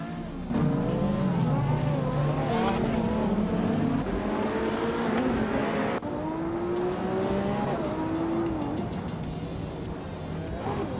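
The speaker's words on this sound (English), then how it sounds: "Admin Flash is driving a Ferrari 488 Pista, a car known for its sharp handling and speed." A Ferrari 488 Pista in a racing game screams loudly and close, its engine pitch climbing and dropping through gear changes with tire squeal mixed in, continuous throughout.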